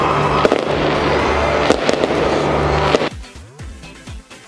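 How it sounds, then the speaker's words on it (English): Loud fireworks going off at PNC Stadium in Houston after a goal, with dense crackling bursts over a roaring stadium crowd, then thinner pops and descending whistles as the display dies down. "Just enjoy that few minutes clip of the fireworks at the PNC Stadium"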